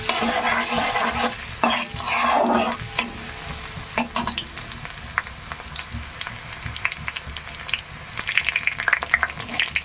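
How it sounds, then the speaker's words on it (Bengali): Crushed garlic fries lightly in oil in a pan for a bitter gourd and masoor dal dish, making a loud, close crackling sizzle with clinks of stirring. The sizzle settles into a gentler hiss with scattered sharp pops, and no one speaks. "দিয়ে থেতো করা রসুন রসুনটাকে হালকা ভেজে নেব"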